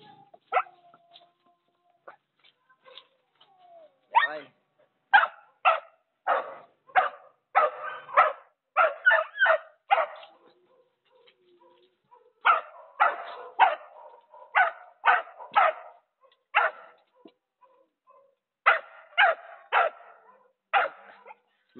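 Dogs bark excitedly during a chase, giving a long run of sharp, loud, close barks in rapid bursts with short pauses and no talk.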